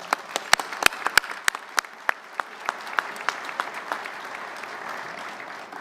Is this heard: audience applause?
yes